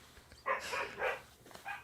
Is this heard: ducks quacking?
no